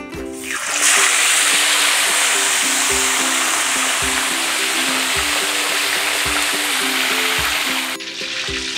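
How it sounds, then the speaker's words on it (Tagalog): Fish frying in hot cooking oil gives a loud, steady hiss of sizzling and crackling that starts abruptly, holds evenly for several seconds, then drops off near the end. "pagka tumahimik na yung sagitsit ng mantika, okay na po yan"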